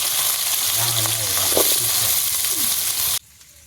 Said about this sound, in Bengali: এখন আমি আলু দিয়ে ভাজি করুন একটু হালকা পাতলা ভেজে নই